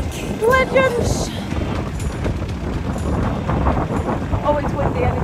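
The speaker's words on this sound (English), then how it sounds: "Oh, it's windy, I need to get down." Wind buffeting a microphone outdoors, a loud, continuous low rumble with a brief whistle-like tone near the start.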